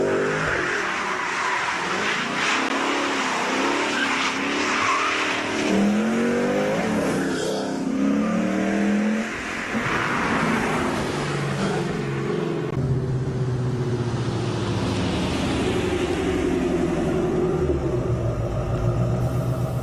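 A Ford Mustang with a newly installed BBK Power Plus throttle body rumbles on a test drive, its engine revving up through several rising pulls and settling into a steady cruise, loud and close.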